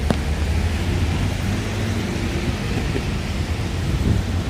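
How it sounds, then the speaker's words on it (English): Steady rain in Toronto hisses and patters continuously, a dense wash of noise with a low rumble underneath, with no voices. "It is raining, it is for sure raining."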